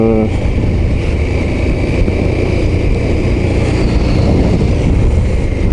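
KTM 1290 Super Adventure S motorcycle engine running at low revs, a steady loud droning rumble with a constant pitch, close and unbroken for the whole stretch.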